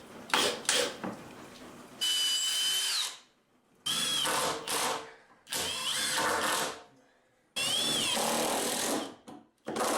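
A power drill whines in several long bursts, pausing between each as it drives a screw into a wooden block, loud and close.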